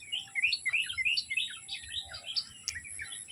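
Several birds chirp and tweet in quick, overlapping calls, fairly close and bright, over a quiet outdoor background with no talking.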